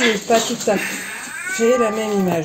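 Cats meow loudly and grow agitated, with rising and falling cries close by and someone talking over them.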